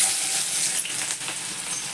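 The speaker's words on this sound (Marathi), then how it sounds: "त्यात मी बघा एक छोटंसं चक्रफूल दोन लवंगा दोन काळी मिरी आणि थोडीशी दालचिनी फोडणीत घालते" Star anise, cloves, black pepper and cinnamon hit hot oil as a tempering, giving a loud, dense, continuous sizzle up close with a faint stir partway through and no voices.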